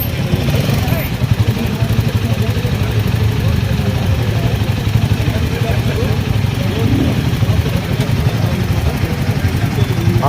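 A Royal Enfield Himalayan motorcycle rides off-road with a steady, rumbling engine drone that continues throughout, with someone speaking over it.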